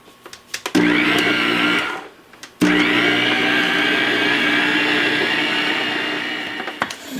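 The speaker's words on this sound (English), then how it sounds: "I'm just going to put my paddle on there and put it down into the mixer." A stand mixer with the paddle attachment works pineapple tea bun dough, whirring loud and steady with a brief pause before restarting and running on alone.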